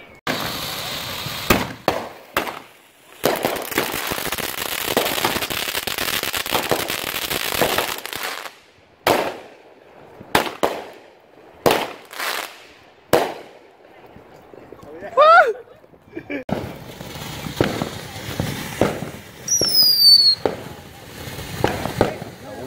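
Illegal fireworks and firecrackers going off at a home for the Fourth of July, a series of sharp bangs and loud crackling bursts, some near and some spaced apart, with whistling rockets and excited voices in between.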